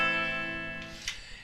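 A minor-key cadence moving from a minor fifth chord to the minor tonic, played quietly on an instrument as a sustained chord that dies away, followed by a faint, brief second attack near the end, with no voices.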